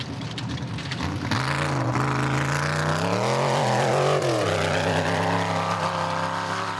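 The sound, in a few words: off-road race cars driving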